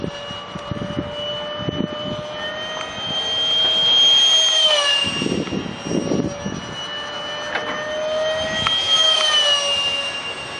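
Small stealth drone powered by a 70mm electric ducted fan jet during thrust vector testing flights, a high, whining turbine-like scream that rises and falls in pitch as it passes, loud and close with no speech.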